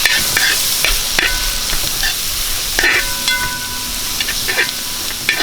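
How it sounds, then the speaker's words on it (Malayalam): Crushed ginger is stirred through hot oil in a frying pan for a Kottayam-style kappa biriyani, giving a steady sizzle with repeated scraping and clinking strokes of the spoon throughout. "അത് നമുക്ക് ഇതിനകത്ത് മിക്സ് ചെയ്യാം. നമുക്ക് ഒന്ന് ഇളക്കി കൊടുക്കും."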